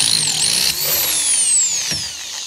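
A power drill cuts through metal while working on a clutch master cylinder bracket for a Lexus Altezza, giving a loud, steady high-pitched whine with sweeping pitch changes that dip briefly near the end.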